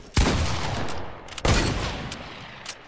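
Two sharp, loud gunshot bursts from a weapon in the Fortnite video game, each followed by a decaying tail, spaced about a second and a half apart, with no talking.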